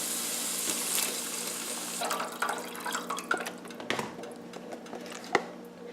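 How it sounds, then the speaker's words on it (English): Chicken broth, a 32-ounce container's worth, pours into a soup pot with a steady liquid splash, fading into scattered drips and small splashes at the end. "So we can just go ahead and pour this whole container in there."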